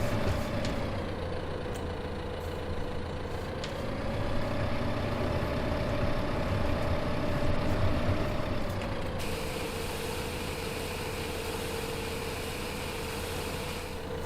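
A small tractor pulling a trailer reverses in Farming Simulator 2015, its engine droning steadily at a constant pitch with a slight rise and fall, joined by a faint high whine partway through, with no talk.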